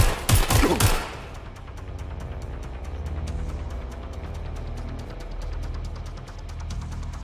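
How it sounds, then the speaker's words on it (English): Gunfire in the video game Watch Dogs: Legion opens with a loud, sharp volley of several shots in the first second, then fades to a steady pulsing rumble. "That's a gun."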